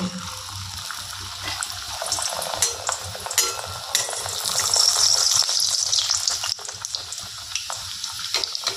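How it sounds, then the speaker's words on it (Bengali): Rolled naan puri dough frying in hot oil, a continuous close crackling sizzle that swells in the middle and settles again, with faint bubbling and no speech over it. "বেলে রাখা নানপুরিটা আমি তেলের মধ্যে দিয়ে দেব।"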